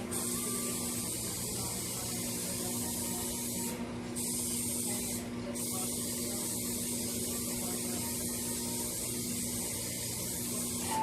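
Cooking spray hisses steadily and close by onto a baking pan for the whole stretch, with two brief dips in the high hiss.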